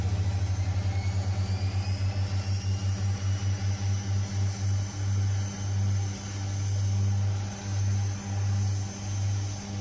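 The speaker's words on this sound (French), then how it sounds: "Voilà, les deux moteurs sont démarrés." Twin ATR turboprop engines run in the X-Plane flight simulator game, a loud steady droning rumble with a throbbing pulse and a rising whine that settles into a sustained high tone.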